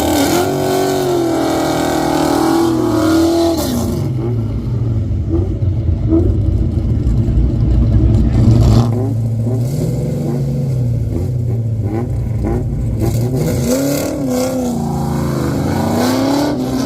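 Rum Runner rally car accelerates past on a forest stage at Redwood Rally, a loud engine revving through gear changes, pitch climbing and dropping as it nears and pulls away, then another rising rev.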